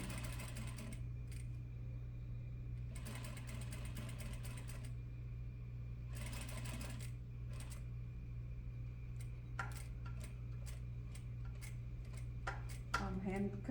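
A hand-cranked sewing machine stitches a seam in short bursts of soft, rapid clatter separated by pauses, with small clicks and handling sounds between runs.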